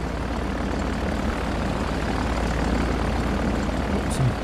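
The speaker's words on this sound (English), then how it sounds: "Planes flying overhead." Propeller planes drone overhead in the Victory at Sea naval video game, a broad, steady engine rumble that holds at an even loudness with no voices over it.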